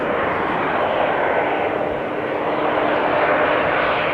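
A KLM Embraer 190 jet arrives at Amsterdam Schiphol from Manchester, its engines a loud, steady, close broadband roar that holds throughout with no talking.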